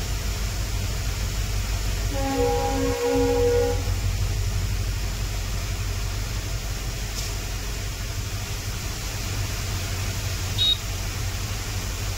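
A freight train rolls past with a loud, steady rumble throughout, and a single sustained horn blast sounds near the start before the heavy rolling continues.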